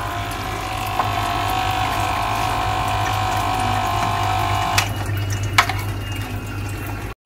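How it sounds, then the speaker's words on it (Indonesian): A small aquarium water pump runs as it is tested after a repair, giving a steady close-up motor hum with a watery wash, broken by two short clicks or knocks near the end. "mesinnya terdengar ya, dia memutar, tapi kita coba dia bisa nyedot gak untuk airnya"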